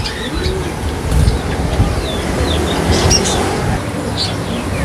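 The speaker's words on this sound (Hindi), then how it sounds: "अच्छा शारिक भाई, ये कबूतरों के बारे में बताइएगा, कौन कौन से हैं?" Pigeons coo softly and repeatedly in a bird shop with a steady background hum, the calls close and low amid light chirps.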